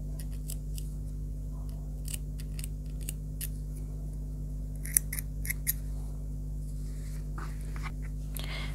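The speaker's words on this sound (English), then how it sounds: "you can go ahead and cut the yarn" Scissors snip through crochet yarn at a bag's finishing stage, a handful of short, faint crisp cuts spread over a steady low hum, no voices.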